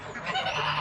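Toulouse cross and Franconian geese honk together in a short, close, loud burst of overlapping calls.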